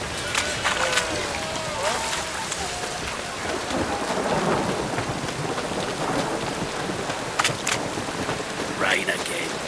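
Steady rain pours in The Witcher 3 while thunder rumbles in low, rolling swells beneath it, a dense, continuous storm wash with a voice speaking over it.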